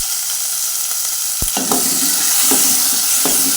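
Curry leaves sauté in hot oil with chopped shallots and garlic for a country-style chicken curry, a loud continuous sizzle broken by a few scraping stirs of the spoon.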